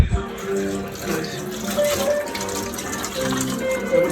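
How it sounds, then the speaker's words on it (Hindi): Tap water runs steadily into a sink while dishes are washed at home during Ramadan, a close, continuous gush with faint clinks and background sounds. "अभी यहाँ बर्तन धुल रहे"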